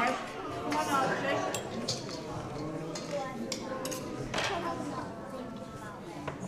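A spoon stirs a mixture in a bowl during a church worship gathering, giving light clinks and scrapes that come and go beneath steady adult and children's chatter.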